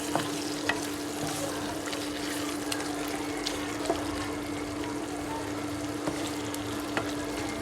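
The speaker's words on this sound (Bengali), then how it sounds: "এখন আমি গরম মশলা দিয়ে একটু নেড়ে নিচ্ছি।" Beef tripe is stirred with garam masala in a pan. A steady close sizzle carries regular scraping strokes and light clicks, with a constant low hum beneath it.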